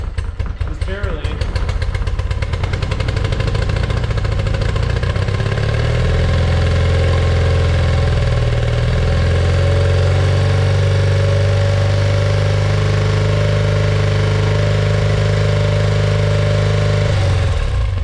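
An old engine on its first start since 1996, after 25 years unused, idles roughly and barely holds itself running. It sounds loud and close, with a steady uneven rumble after some sputtering at the start.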